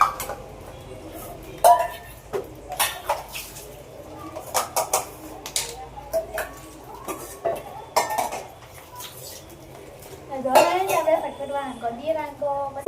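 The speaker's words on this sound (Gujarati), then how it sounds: "ચલો હવે આપણે કરી દઈએ ફટફટ વાસણ" Dishes, pots and pans clatter and clink in repeated bursts as they are washed by hand, with metal utensils knocking together close by and voices talking faintly throughout.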